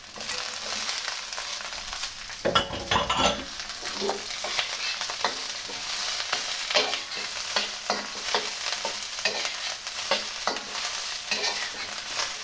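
Shredded cabbage stir-fried in a hot pan for beef lo mein: a loud, steady sizzle runs throughout, broken by repeated scraping and tossing strokes from the stirring.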